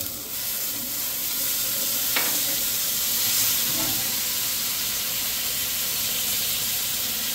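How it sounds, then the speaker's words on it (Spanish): Butter sizzles in a hot pan ready for browning chicken, a steady close hiss of frying that runs continuously with a few brief clinks and stirring touches, no talk over it. "Le voy a poner el resto de la mantequilla al sartén porque es donde vamos a dorar ahorita nuestro pollo"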